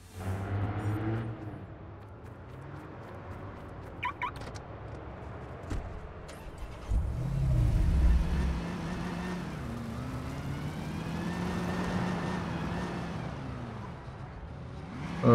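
A car engine hums and revs in the video game Watch Dogs, a steady motor drone that swells into a deeper surge midway, fairly quiet with no talk over it.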